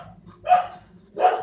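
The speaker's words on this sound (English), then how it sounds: "Pardon my dogs, I have not a clue what they're barking at out there." Dogs barking outdoors, heard from inside a house: two sharp, fairly loud barks spaced about half a second apart, with quiet gaps between them.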